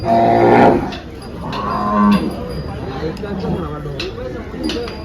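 A Gir cow at a cattle market in Dhule moos loudly and close by, several low drawn-out calls, while people chatter in the background.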